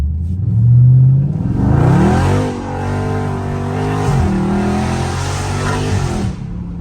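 A Dodge Scat Pack's engine revs loud and close while drifting, the pitch sweeping up and down through several sustained pulls with a throaty low rumble and no voices over it.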